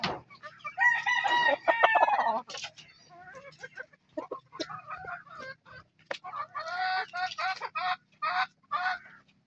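An Asil muff rooster crows a full, close cock-a-doodle-doo, then breaks into a string of short, choppy clucks and calls with brief pauses between bursts.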